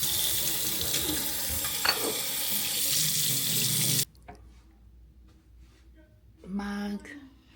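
Water from a hotel sink tap runs steadily, then cuts off abruptly, followed by quiet handling sounds and a short burst of water again near the end.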